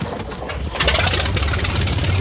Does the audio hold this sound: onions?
no